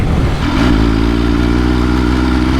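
A 2020 MV Agusta F3 800 RC race bike's engine and exhaust roar loud and close, the revs climbing briefly before settling into a steady, rich drone.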